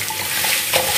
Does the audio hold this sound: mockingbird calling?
no